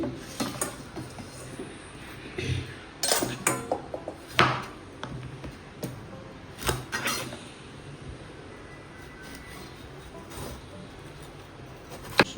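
Knife chopping washed vegetables into large pieces in a home kitchen, giving irregular knocks and clicks against a board with pauses between cuts, fairly close and alone.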